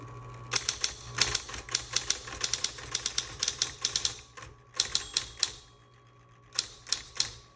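Smith Corona Electra 110 electric typewriter typing in quick bursts of sharp, close keystrokes, with short pauses between runs over a faint motor hum.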